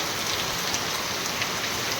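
Heavy rain pouring down in a dense, constant roar of drops striking surfaces, loud and close throughout.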